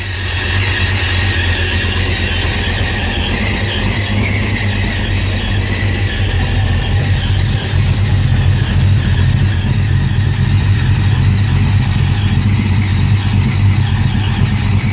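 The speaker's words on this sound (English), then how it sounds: "Really like the sound of the MagnaFlow mufflers." A supercharged 1969 Buick Skylark with MagnaFlow mufflers and open exhaust idles steadily up close, a loud continuous low rumble with a slight rise in intensity partway through and no talking.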